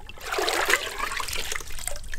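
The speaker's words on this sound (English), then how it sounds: "then we'll give it a shake in the water" Water sloshes and splashes as an engine air filter is shaken in a container of water during cleaning on a mini bike with a Tillotson 225 engine, a steady close churning swish with no talking.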